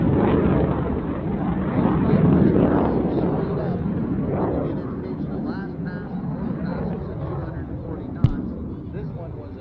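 A Mikoyan-Gurevich MiG-17F jet flies an afterburner demonstration at an air show, a broad roaring rumble that swells and slowly fades as it climbs, with a sharp crack near the end and commentary over it.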